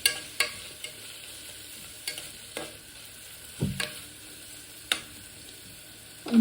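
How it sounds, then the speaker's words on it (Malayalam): Three finely chopped green chilies sauté with ginger and garlic in a pan, giving a quiet sizzle under sharp, intermittent scrapes and taps of a spoon stirring every second or so, close by. "ഒരു 3 പച്ചമുളക് ചെറുതായിട്ട് അരിഞ്ഞത് ഇട്ടെടുത്തിട്ട് ഒന്നുകൂടെ വഴറ്റി കൊടുക്കാം"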